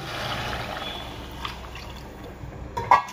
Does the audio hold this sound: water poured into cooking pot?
yes